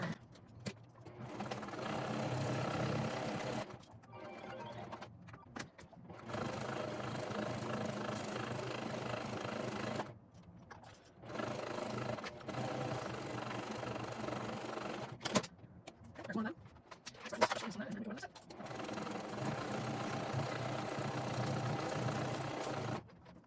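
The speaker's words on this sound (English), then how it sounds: "Now we're just gonna go ahead and sew these together" A sewing machine stitches backpack pieces together in several runs, its motor whirring in bursts separated by short pauses, close and moderately quiet.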